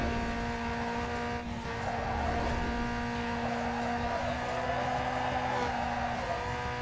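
A race car in Need for Speed Underground 2 drives on with a sustained engine drone and a light whine of tires on the road, steady and even throughout without a break.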